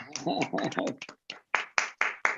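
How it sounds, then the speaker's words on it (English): A few scattered claps come over microphones during an online astronomy society meeting, following a stretch of talking and arriving as four or five sharp, separate hand claps. "So here's a virtual round of applause."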